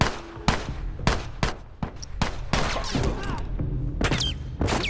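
Rifle gunfire in a Lakeside multiplayer match of The Last of Us Remastered: loud, close, sharp shots in irregular bursts with heavy thuds and overlapping reports, a few quick doubles and scattered single cracks across the stretch.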